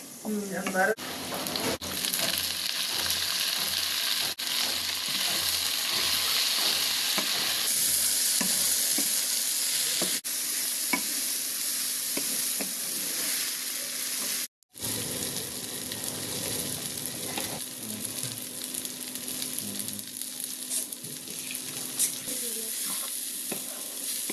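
Garlic and green chilies crackle in hot oil while a spatula stirs and scrapes the pan in quick repeated strokes, a close, steady sizzle with a brief break partway through and no talking.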